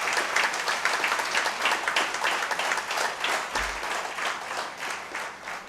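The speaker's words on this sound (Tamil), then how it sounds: "அவங்களுக்கு ஒரு கைத்தட்டு கொடுங்க." A large crowd at a Tamil public gathering gives a sustained round of applause. The dense, even clapping fills the whole stretch at a moderate distance, with no talk over it.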